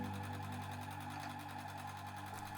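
A sewing machine stitches the crown seam of a reversible sun hat, its motor giving a quiet, even, continuous whir with a fast steady needle pulse throughout.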